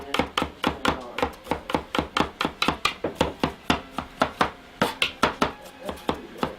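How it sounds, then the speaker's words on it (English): Kitchen knife finely chopping cabbage on a cutting board, a quick run of about thirty sharp, close, loud thuds in a steady rhythm with no talk. "So I'm chopping this quite fine, I think, right?"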